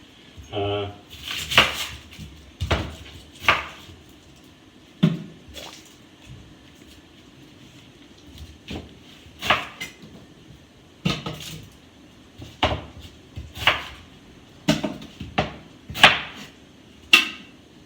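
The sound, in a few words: chopping a Spanish onion and dropping it into the pan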